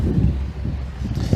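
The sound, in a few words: wind blowing outdoors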